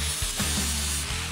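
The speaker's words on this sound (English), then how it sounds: "A little work with a cutoff wheel frees them up." An angle grinder with a cutoff wheel cuts bushing ends off an old lifted diff mount from a Chevy 1500 truck, a loud continuous abrasive whine with brief dips where the cut pauses.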